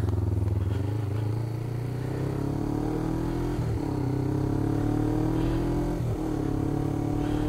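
A Honda CT110 motorcycle engine running steadily up close, a loud low drone that rises slightly in pitch, with two brief dips as if shifting gears, no speech.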